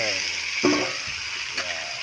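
Chicken stirred in a pan with garlic and onion sizzles steadily, with a couple of brief scraping stirs breaking through the continuous frying hiss; no one speaks over it.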